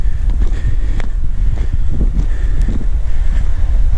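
Strong wind buffeting the microphone on an open beach at Saltwick Bay on a windy October day, a continuous low rumble with gusty surges and faint surf behind, steady and close throughout with no talk.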